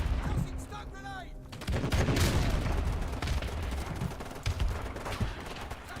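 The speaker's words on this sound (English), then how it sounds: "Ooh, you sniped him." Sniper rifle shot in Call of Duty 4 Remastered, a sharp loud report followed by continuing rattling gunfire and explosive thuds in a busy firefight, with faint voices briefly heard early on.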